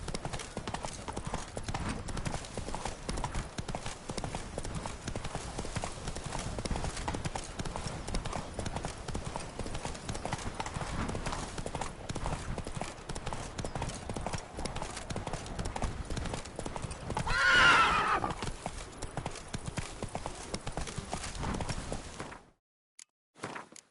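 Roach, a horse in The Witcher 3, gallops with rapid, steady hoofbeats that run unbroken for over twenty seconds, then cut off abruptly.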